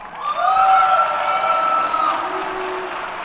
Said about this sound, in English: let's give another round of applause for our officials